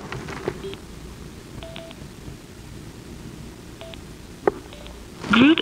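Short electronic beeps from a Schuberth C4 motorcycle helmet's Sena SC1 intercom headset as the minus button is held, a few tones scattered across the clip over quiet background noise, ending with a brief rustle.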